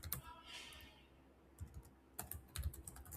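Soft clicks of typing on a computer keyboard come in scattered bursts of keystrokes, close but quiet, with pauses between the runs.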